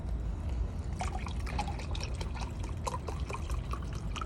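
Beef broth pours steadily from a measuring cup over dry small pasta shells for a beefy taco mac, a continuous close liquid rush with light splashing throughout.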